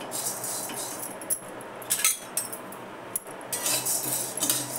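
Chana dal dry-roasted in a pan, stirred with a metal utensil: soft rattling hiss broken by a few light, close metallic clinks and scrapes.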